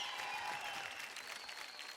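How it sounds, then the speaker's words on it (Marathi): Audience applause after a dance performance on a televised competition stage, a dense, loud, sustained clapping from a large crowd that continues evenly for a couple of seconds. "जोरदार टाळ्या"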